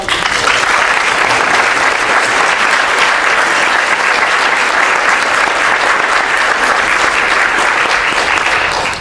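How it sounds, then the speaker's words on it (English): Sustained, dense applause from a candidate forum audience for Alaska State Senate candidates, loud and even throughout with no break and no talk over it. "So a round of applause"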